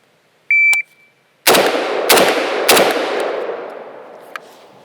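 A shot timer gives a short electronic beep, then an IWI Galil Ace rifle in 5.45x39 fires three loud, evenly spaced rounds, each crack ringing out into a long fading echo.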